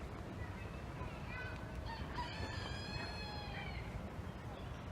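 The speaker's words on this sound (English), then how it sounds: "The rooster is calling out" A rooster crows once at a moderate distance over steady outdoor background noise in a park near a pond, a drawn-out call with other fowl faintly heard.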